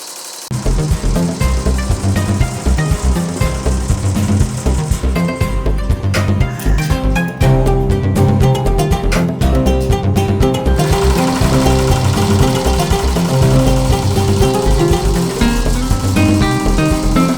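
A computerized embroidery machine running at speed, a loud rapid mechanical needle chatter that holds steady for the whole stretch after starting abruptly, with brief rattling changes in the middle.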